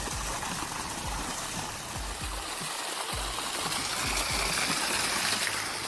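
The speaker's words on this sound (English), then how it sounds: "every time after a heavy rain, it does this. That's a waterfall tree." Steady broadband rush of water gushing from a hollow tree trunk after heavy rain in Montenegro, a continuous close splashing roar with no talk.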